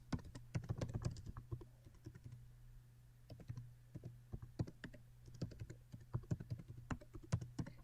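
Typing on a computer keyboard, close and clear, in quick irregular bursts of key clicks with short pauses between, over a faint low hum and no talking.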